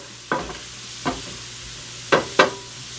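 Onions and mushrooms sautéing in butter in a pan for a mushroom steak sauce, a steady low sizzle broken by four or five distinct scraping stirs of a utensil, close up.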